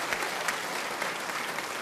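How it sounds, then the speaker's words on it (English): A theatre audience at an old-time music hall show applauds, a dense, continuous wash of many hands clapping at a steady, moderately distant level. "Applaud them for it."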